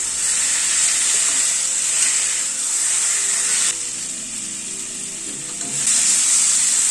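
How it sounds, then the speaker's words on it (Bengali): Pumpkin and pointed gourd sauté in a hot pan for a Bengali potol curry, giving a loud, steady sizzle and hiss that swells and dips slightly as the vegetables are stirred. "কুমড়ো আর পটল দিয়ে আবারও মিনিট খানেক একটু কষিয়ে নিলাম।"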